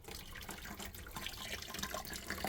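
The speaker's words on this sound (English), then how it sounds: "all I'm going to do with sparging is just run some very hot water through this bag" Very hot water runs through a grain bag of mash while sparging a homebrew imperial plum porter, a steady close splashing and trickling with no talk.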